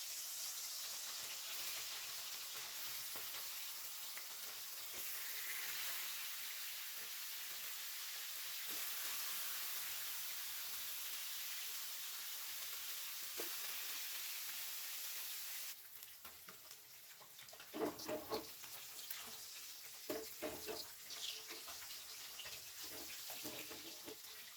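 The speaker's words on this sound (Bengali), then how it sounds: "চলো তাহলে মাছগুলো ভেজে ফেলি।" Rohu fish pieces rubbed with salt and turmeric fry in a pan, giving a steady hiss that later breaks into sharper crackling spurts. The sound is close and fairly quiet, with no talk.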